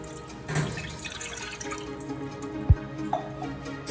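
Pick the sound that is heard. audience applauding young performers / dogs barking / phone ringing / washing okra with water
washing okra with water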